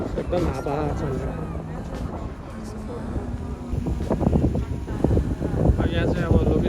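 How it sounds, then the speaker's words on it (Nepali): Strong wind gusts across an open outdoor viewpoint near large natural rocks during an evening picnic in Nepal, a continuous rushing buffet on the microphone with voices talking through it. "एकदम हावा चलेर"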